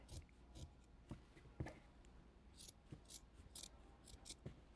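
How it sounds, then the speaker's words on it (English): Scissors snip through T-shirt fabric in a series of short, crisp cuts, irregularly spaced, close by with a quiet background. "Now, taking my scissors, I'm going to cut"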